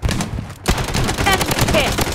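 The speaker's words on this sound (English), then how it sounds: "Defensive turret activated." A defensive turret fires in the video game Blood Strike, a loud, rapid stream of automatic gunshots that runs almost continuously after a brief pause, dense and close.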